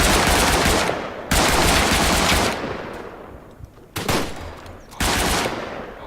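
Turret machine gun in Tannenberg firing from a tree line, several long, loud sustained bursts separated by brief pauses, with no talk.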